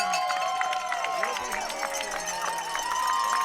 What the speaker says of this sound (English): the crowd cheers their Placer Hillmen as both teams head for the locker room